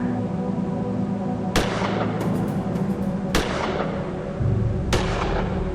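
Three separate gunshots in the PC game Gemini Rue, each a sharp, loud crack with a short ringing tail, spaced about a second and a half apart over a steady low background hum.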